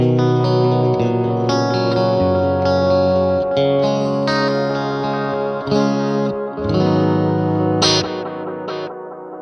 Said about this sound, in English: So you can get some really nice chorusy delay tones.